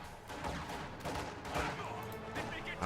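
MG42 machine gun fire in the WWII strategy video game Company of Heroes 2 rattles in rapid bursts amid battle noise, moderately loud and near throughout.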